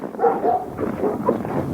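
Dogs bark in a cold permafrost setting, a few rough, muffled woofs spaced across the clip, moderately close over a steady background hum.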